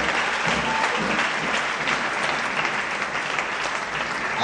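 Congregation applauding during a Sunday anointing church service, a sustained, dense round of clapping from many hands that fills the room steadily, with no speech over it.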